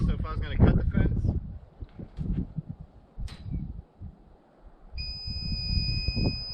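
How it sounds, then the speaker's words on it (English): Someone talks amid wind and rustling, then a steady high-pitched electronic alarm tone from a G fence 600z fence intrusion alarm, triggered by touching the fence, starts and holds under his voice. "as soon as I touch the fence, we get an alarm."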